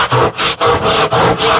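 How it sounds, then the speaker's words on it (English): A handsaw cuts through a wooden table leg in quick, even back-and-forth strokes, close and loud, with no voices. "So we'll just come over here to our handsaw."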